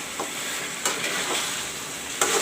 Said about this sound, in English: the chicken is frying with the masala